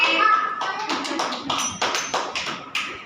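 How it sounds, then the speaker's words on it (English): Schoolchildren in a classroom activity clapping hands in a steady, evenly spaced rhythm of sharp claps, loud and close, with a teacher's voice at the start. "very good clapping"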